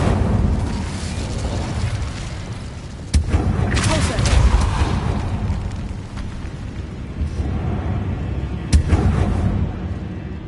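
Whooshing, booming bursts of the Incendio fire spell from the video game Hogwarts Legacy sound in a catacomb, with sharp cracks at intervals over a rumbling roar.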